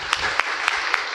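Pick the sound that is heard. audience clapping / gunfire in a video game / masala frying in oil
audience clapping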